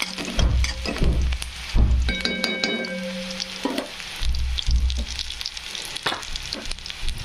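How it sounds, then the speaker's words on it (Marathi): Onion fries in oil with a loud, close crackle, broken by heavy thumps and scrapes of stirring and a short tonal ring midway. "तेलात कांदा लवकर फ्राय होण्यासाठी अगोदर मीठ टाकून घेऊ"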